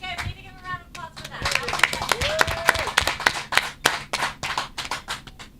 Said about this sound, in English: we need to give a round of applause for